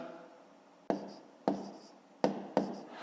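A pen writes numbers on paper while working a column multiplication of 13.1 by 2.4, four short scratchy bursts of strokes, close and alone in a quiet room.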